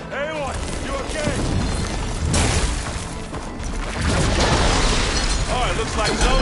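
Supporting gunfire and explosions during a Horizon Forbidden West machine battle: loud crashing blasts, bursts and shattering impacts in a chaotic barrage, with voices talking over the combat.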